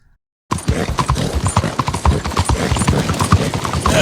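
Horse hooves clip-clop steadily and close in Red Dead Redemption 2, a loud rhythmic trot of a chestnut Hungarian half-bred that starts after a brief silence and keeps going, with faint voice touches underneath.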